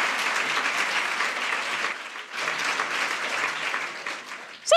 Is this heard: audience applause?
yes